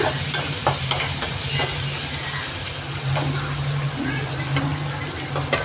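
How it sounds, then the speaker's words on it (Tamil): Onions fry in a pan with a constant close sizzle, while a utensil scrapes and stirs them in occasional strokes and a low hum runs underneath. "வெங்காயம் போட்டு நல்லா வதங்கணும்"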